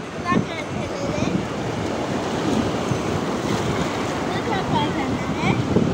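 Sea waves wash steadily up a beach at Morro Branco, a continuous loud rushing surf with wind buffeting the microphone, close and unbroken throughout.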